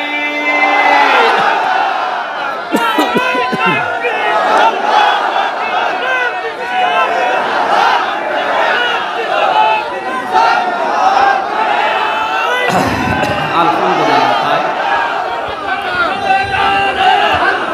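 A large crowd at an outdoor Islamic religious sermon roars a chant of takbir together, a loud sustained swell of many voices with a preacher's call at the start and a brief dip partway through.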